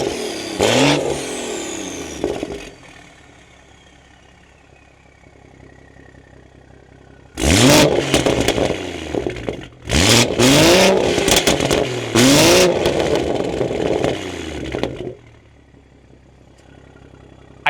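BMW B58 straight-six with the exhaust valve open, nearly straight-piped, revving in short bursts: one rev, a quiet idle, then several loud, rising throttle blips in quick succession, close and prominent.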